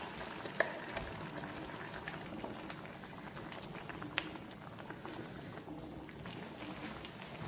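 Mango mudduli simmering with freshly ground masala, a soft, low continuous bubbling in the pot, fairly quiet with a couple of small clinks near the start.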